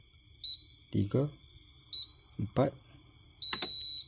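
Several short electronic beeps from a repaired device: a brief beep, another a second and a half later, then a longer, louder tone near the end, with a man counting in Malay between them.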